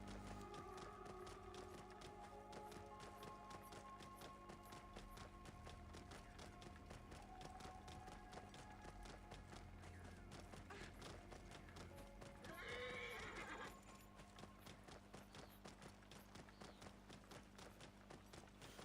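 Steady hoofbeats of a camel ridden in a video game clip-clop in a rapid even rhythm, with a brief animal snort or whinny partway through over a low background hum.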